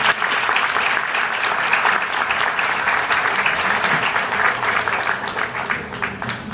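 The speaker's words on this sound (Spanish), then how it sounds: "Un aplauso, por favor." An audience at an artificial intelligence panel applauds an engineering professor being introduced, with loud, dense, sustained clapping from the crowd for several seconds.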